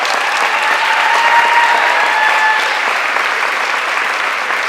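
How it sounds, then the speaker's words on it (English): Steady, loud applause from an audience at an awards event honoring women achievers, sustained clapping with no break for the whole stretch. "Let's give a big round of applause for Mim and Christy."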